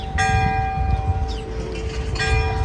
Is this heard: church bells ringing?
yes